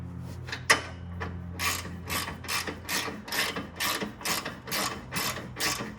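A ratchet clicks in quick repeated bursts while tightening bolts on an oil cooler guard for a BMW S55 F8x M3/M4. The strokes are close and fairly quiet, with a sharper knock near the start.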